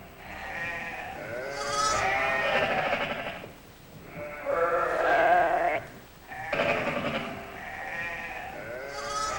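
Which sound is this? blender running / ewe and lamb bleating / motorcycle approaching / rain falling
ewe and lamb bleating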